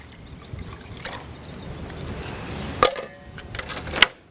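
Water poured in small amounts while preparing beef brisket for barbecue, a soft trickling splash under faint room noise, with brief clinks of a container near the end.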